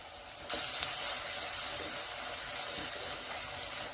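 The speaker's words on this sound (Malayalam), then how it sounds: "സവോളൊക്കെ ഒരുവിധം വഴന്ന് വന്നു തുടങ്ങി" Sliced onions sautéing in oil in a pan for a sardine curry: a steady, close sizzle that starts abruptly and holds an even hiss throughout.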